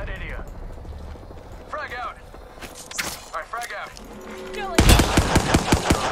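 Automatic weapon fire in the Apex Legends video game, a loud burst of rapid shots near the end following quieter earlier pops, with game sounds and voice chat in the background.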